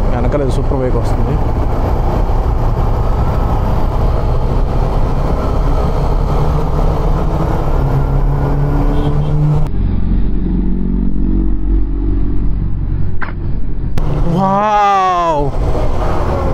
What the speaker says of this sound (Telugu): ఈ వ్యూ వెనకాల సూపర్ బైక్ వస్తుంది